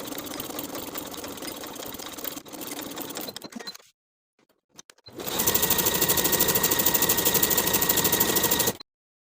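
Sewing machine edge stitching along the long edges of a folded fabric bag strap, with a steady rapid stitching run, a short pause, then a louder continuous burst of needle clatter, close and alone.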